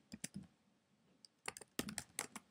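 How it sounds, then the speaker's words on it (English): Typing on a Mac computer keyboard while entering values into Excel 2008: close, crisp clicking keystrokes in two irregular bursts separated by a short pause, with no talking. "I'm typing time in seconds"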